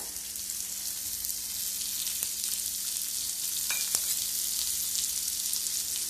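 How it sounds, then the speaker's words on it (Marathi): Chopped onion sizzles steadily in a little hot oil in a pan, a constant close frying hiss with a few faint clinks, no one talking. "मग कांदा आपल्याला छान असं लालच्या रंगात परतून घ्यायचा आहे"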